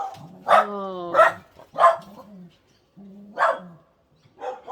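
Dogs next door barking in sharp, loud bursts, several separate barks with short whines between them, heard close and alone.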